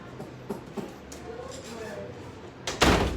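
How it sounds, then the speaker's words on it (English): A classroom door swings shut near the end with a firm thud, after faint shuffling and a few soft knocks in a quiet room. "I'm going to close the door real quick."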